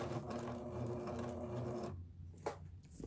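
Pfaff 1475 CD sewing machine stitching, a fast, steady mechanical whirring hum for about two seconds that then stops, leaving a couple of soft clicks and handling knocks, close and alone.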